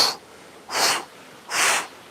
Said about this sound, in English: We're gonna slowly go back up with some forceful exhales.